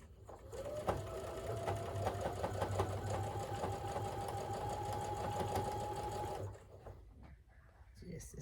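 A domestic sewing machine runs steadily, stitching seams in one continuous whirring burst of about six seconds, with a loud hum that stops abruptly, then faint handling noises follow.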